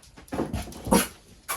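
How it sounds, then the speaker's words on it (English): Indoor dog letting out a few short, soft barks and whimpering yips at a neighbor, spaced irregularly and fairly close. "Why is she barking at you?"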